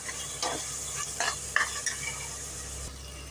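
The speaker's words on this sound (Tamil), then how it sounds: "கொஞ்சம் வதங்கட்டும் மசாலா" Masala sautéing in a pan for mutton biryani, a soft continuous sizzle with a few scraping stirs of a spoon against the pan, close and moderately quiet, with no talking.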